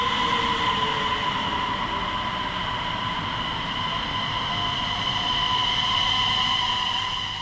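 Øresundståg train, formed of three 3-car units for nine carriages, running between Sweden and Copenhagen: a steady rumble and roar of wheels on track with faint high whining tones throughout, constant and moderately loud.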